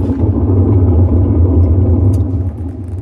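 A gray Cabrio top-load washer running with a bad gear case and bearings, giving a loud, continuous low rumbling drone that stays steady and close throughout before easing slightly near the end.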